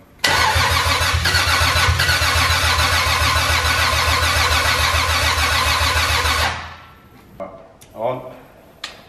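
The 2JZ engine swapped into a BMW E36 cranks and fires for its first start-up, running with loud, rapid, pulsing combustion for about six seconds before it cuts off. Brief clatter and voices follow in a garage setting.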